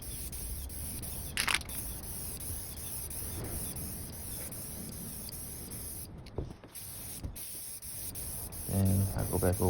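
Spray paint hissing onto an old metal table under restoration, a continuous close hiss broken by a few short bursts and clicks, with some speech near the end.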